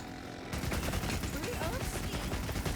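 Rapid automatic fire from a Wyvern Heart heavy bowgun in Monster Hunter Wilds, starting abruptly after a brief pause and continuing as a dense, loud, sustained barrage of shots with game effects layered underneath.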